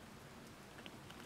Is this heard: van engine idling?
no